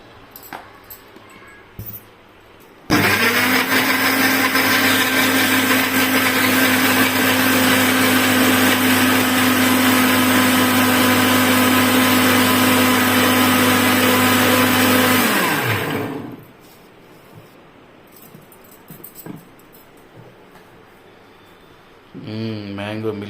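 Kitchen mixer grinder blending mango, ice cream, sugar and milk into a milkshake, a loud steady motor whine that starts abruptly, runs about twelve seconds and winds down, with quiet talk before and after.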